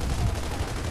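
Retro Lancer rifle fire in the Gears of War 3 video game, a dense, continuous burst of rapid automatic shots filling the whole moment, loud and steady with no pauses and no talk over it.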